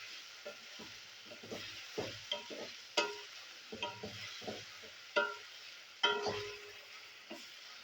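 Chopped banana flower stirred in a pan with ground coriander, cumin, chili and turmeric mixed in a little water: a steady sizzle under repeated sharp scraping strokes of the spatula, close and fairly quiet, with no talking.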